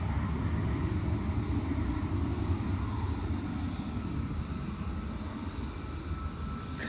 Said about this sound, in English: Love how those smaller private jets just like hardly need to use any of the ramp runway